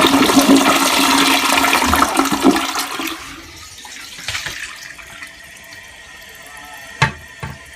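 An American Standard Cadet 3 toilet flushes with its 1.28 gallon flush, a loud rushing surge of water that fades into quieter trickling and refilling, with a couple of sharp knocks near the end.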